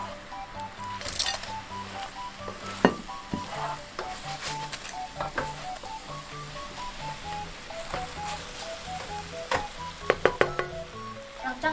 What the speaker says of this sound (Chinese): 放入炸好的棒棒腿，快速拌炒。